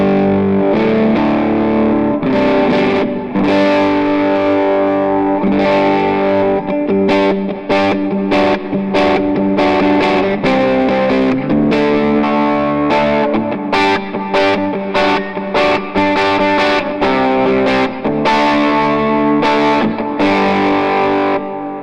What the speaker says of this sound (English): we can even throw some overdrive and it still sounds good